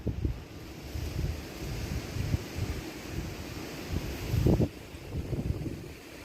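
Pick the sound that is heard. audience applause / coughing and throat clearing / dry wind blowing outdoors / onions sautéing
dry wind blowing outdoors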